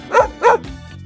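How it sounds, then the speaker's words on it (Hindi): Dog barking twice in quick succession, two sharp, fairly loud woofs close to the listener, followed by a brief quieter trailing sound. "सही जवाब डॉग।"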